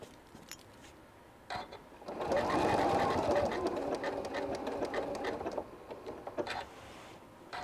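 A sewing machine stitches around the fabric edges of a St. Patrick's Day table runner, a rapid steady mechanical whir lasting several seconds between brief pauses and soft handling sounds, close and clear.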